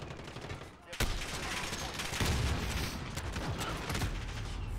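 Rapid, sustained gunfire in the multiplayer shooter Modern Warfare, a dense automatic burst beginning sharply after a brief lull and continuing loudly throughout, with faint voice underneath.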